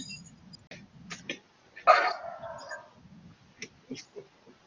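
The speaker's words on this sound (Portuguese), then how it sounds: "Estamos em casa, né? Daí o cachorro toma conta." A dog indoors at home gives one clear bark and then a few short yips and whimpers, faint and intermittent against a quiet room.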